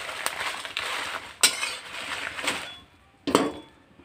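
Spices dry-roasted in a pan for Khandeshi garam masala, with sharp metallic scrapes and clinks of a spoon against the pan at irregular intervals over a soft rustle, then a short quiet gap before one last scrape.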